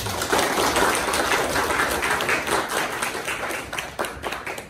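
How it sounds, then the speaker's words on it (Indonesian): A group claps at an Advan product training event held by Twincom in South Kalimantan. The clapping is quick and uneven, with sharp individual claps standing out from a busy, fairly loud patter that holds for several seconds with no talking. "Tepuk tangan."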